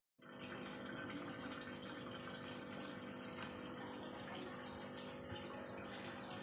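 A water pump refills a garden fish pond after the filters have been cleaned. A faint, steady hum with rushing water runs unbroken from start to finish, with no voices.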